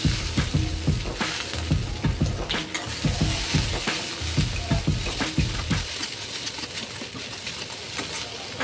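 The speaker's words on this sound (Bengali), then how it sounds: "তো এখন জিরাটা দিয়ে দেবো।" Cumin seeds crackling and popping in hot oil in a home kitchen, loud dense sizzle with bursts of spitting pops and some utensil knocks early on, easing into a steadier hiss, close up with no talking.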